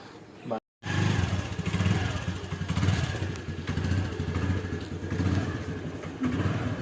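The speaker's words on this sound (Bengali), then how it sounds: "আমরা গাড়ি নিয়ে যাচ্ছি, হ্যাঁ, বাইক স্কুটি নিয়ে।" A motor scooter's engine drones steadily while riding along an empty village road in the morning, close and continuous apart from a brief dropout near the start, with people talking over it.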